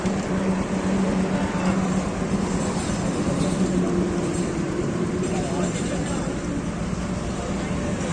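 Riding a train near Kolaghat on a day trip out of Kolkata: a continuous loud rumble and rattle of wheels on rails fills the whole stretch, steady and close, with some muffled voices beneath.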